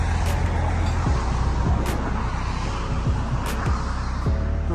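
Steady traffic on a main road in the Hertfordshire countryside near Hitchin: cars and heavier vehicles pass continuously nearby, with engine hum and tyre roar rising and falling as several vehicles go by, and a few brief hissing bursts, no talking.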